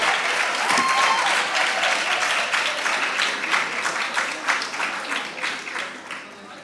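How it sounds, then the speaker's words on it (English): Audience at a national investment quiz competition quarterfinal applauding after a round, a dense, loud wash of clapping that holds steady and then thins out toward the end. "Let's clap for them."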